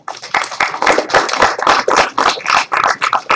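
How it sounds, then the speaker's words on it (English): Audience applause at a political debate for the DCRP chair race, with many hands clapping in a dense, steady burst that continues for several seconds. "There was more clapping for the last question, I think."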